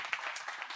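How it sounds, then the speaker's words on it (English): An audience at a hotel gathering applauds itself, a brief, fairly quiet patter of many hands clapping at once, heard alone without speech. "ask you to give yourselves a round of applause"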